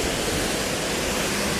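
Henrhyd Falls in South Wales, a waterfall pouring and spraying down into the pool below, heard up close as a loud, dense, unbroken roar.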